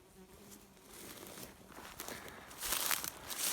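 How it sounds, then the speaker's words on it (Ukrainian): Bees buzz faintly in a low steady hum near flowering goldenrod, with rustling and crinkling noises growing louder toward the end. "У мене є тут недалеко бджоли."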